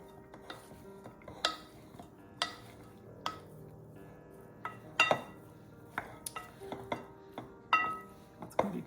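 Potato salad is mixed in a bowl with a utensil, producing a scattered series of quiet scrapes, clinks and taps of varying spacing, close by with no talking.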